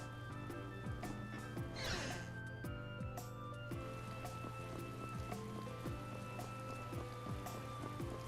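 Steady rain falls in the Tales of Vesperia game world, a soft continuous patter with a low steady hum underneath and faint scattered drips and taps, quiet and unbroken.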